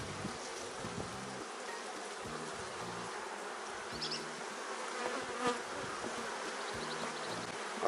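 A swarm of honeybees hums steadily and densely during a beehive inspection, a continuous close buzz with faint background knocks.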